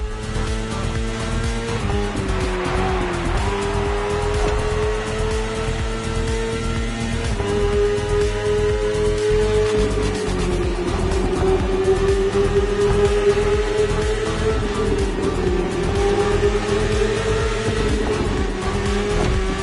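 A BMW S1000RR superbike engine runs continuously while being ridden, a loud sustained motor drone with steady harmonics that rise and fall slightly with throttle, close and unbroken with no talking.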